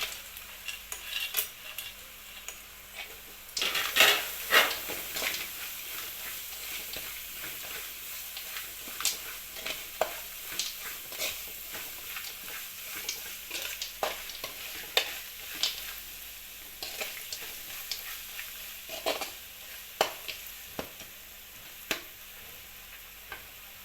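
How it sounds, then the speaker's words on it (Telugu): Peanuts frying and being stirred in a pan while making tamarind-leaf pulihora rice, with a steady close sizzle and repeated scraping strokes of the spoon throughout, no voices. "ముందుగా సిద్ధపరచుకున్న పల్లీలు వేసుకోవాలి"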